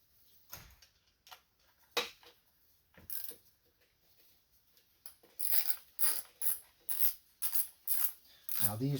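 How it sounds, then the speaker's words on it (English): Coil nuts being threaded and tightened on a Honda V6 engine, irregular metallic clicks at first, then a quick regular series of ratchet-like ticks, close up and fairly quiet. "I'm going to put the coil nuts back on, make sure that this bank is good and secure"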